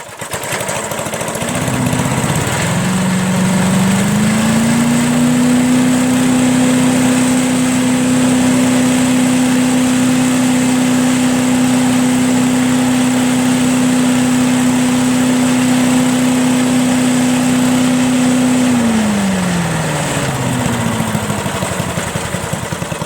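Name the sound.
lawn tractor engine idling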